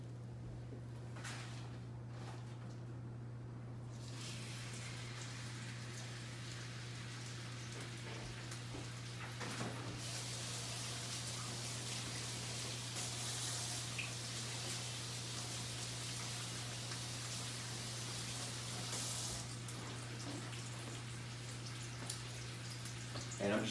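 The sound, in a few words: beef roast searing in hot cast iron skillet with butter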